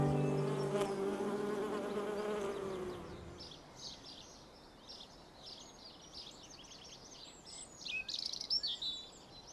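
Bees buzz around a flowering tree in a garden, a steady droning hum for the first few seconds that then fades, leaving faint high bird chirps and tweets that rise again near the end.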